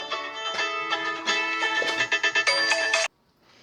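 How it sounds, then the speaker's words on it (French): A telephone ringtone plays loud and close, a bright melodic electronic tune with rapid pulsing notes that cuts off abruptly, leaving near silence. "j'ai été interrompue par le téléphone"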